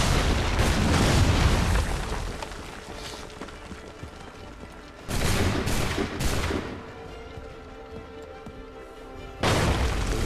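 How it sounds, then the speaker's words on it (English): Cannon fire during an ambush in Assassin's Creed III, with heavy booming blasts arriving in bursts at the start, in the middle and near the end, fading between volleys. "Cannon's already fired."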